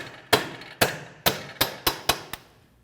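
Ball peen hammer tapping a CV axle inward on a 2012-2016 Honda CR-V 2.4L, seven sharp metallic taps, close and loud, spaced about a third to half a second apart with ringing decay.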